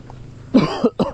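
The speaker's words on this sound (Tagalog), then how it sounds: "Inuubo-ubo tayo mga utol." Two quick, harsh coughs sound close by, following a brief quiet moment, the second cough shorter than the first.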